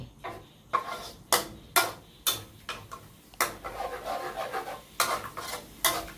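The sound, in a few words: stir-frying canned fish chili paste in a pan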